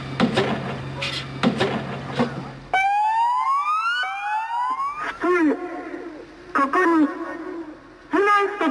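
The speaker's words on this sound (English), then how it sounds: "Lights flash, a siren wails, and smoke pours from a tall chimney." Electronic tsunami warning siren wailing with long gliding tones, loud and fairly near, preceded by low-level background voices and later interrupted by short beeps and fragments of speech.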